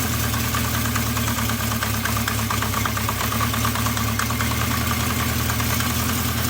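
A Honda CB350 motorcycle engine idling, a loud, steady close-up putter with an even pulsing rhythm and no voices.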